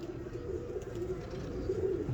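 A desi pigeon coos in low, soft, rolling calls, close by and fairly quiet against a faint background murmur.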